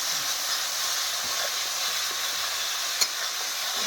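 Spice paste frying in oil for a fish-head muri ghonto, a steady hissing sizzle held evenly throughout, close, with one brief sharp tap near the end and no talk.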